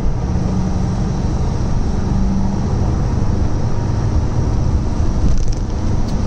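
Under slightly harder throttle on a road, a Lancia Flavia Milleotto LX engine gives a loud, continuous in-cabin drone that stays fairly constant, with a brief rattle near the end and no voices.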